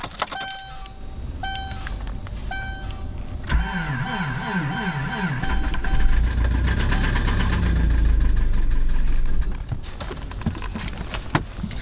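Subaru Legacy 2.5 engine with a blown, knocking condition starting up after chimes and a whirring motor, then running with a heavy rattling clatter like a diesel, loud and close for several seconds.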